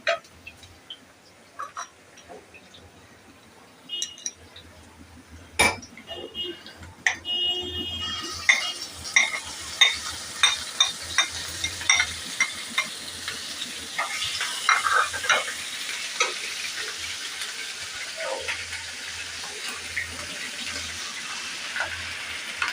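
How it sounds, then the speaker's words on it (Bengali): Onion frying with ground spice paste and powdered spices in a pan while being stirred: a quiet start, then a bright, steady sizzle with repeated scraping stir clicks, close and fairly loud. "পেঁয়াজটা হালকা ভাজা হয়ে গেলে আমি এটার মধ্যে বাটা মশলাটা এবং পাউডার মশলা যেগুলো সবগুলো একসাথে মিক্স করে দিয়ে দিব"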